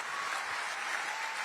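Applause from a crowd at a political speech, steady broadband clapping filling the short stretch at moderate level with no voices over it.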